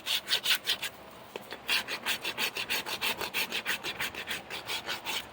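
Rhythmic scraping and rasping against a horse's hoof affected by white line disease, a fast, even run of strokes close by with a brief pause partway through and no talking.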